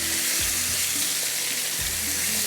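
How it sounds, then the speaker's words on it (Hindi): Tikka boti pieces frying with ginger and garlic in a karahi, a steady bright sizzle filling the whole clip with occasional low stirring bumps, close and continuous with no talking. "इसको मैं फ्राई कर लूँगी"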